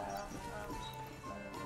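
Horse hooves clip-clop steadily at a moderate distance in a Manor Lords village, a soft, even rhythm of hoofbeats under light ambient game sound.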